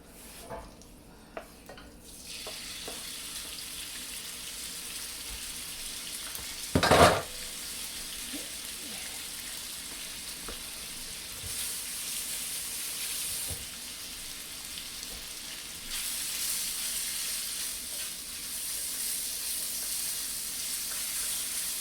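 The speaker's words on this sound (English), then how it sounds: "once you can really smell that, and something you chuck in starts to sizzle" Steady sizzling and crackling of bacon frying in sesame oil in a pan, with a brief clatter of a utensil partway through.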